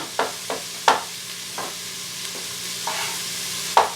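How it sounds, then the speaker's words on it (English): Mushrooms being added and stirred in an Instant Pot for beef stroganoff, with a steady low sizzle broken by several sharp scraping clacks of a utensil against the pot at an irregular pace. "I'm going to go right ahead and start adding my mushrooms"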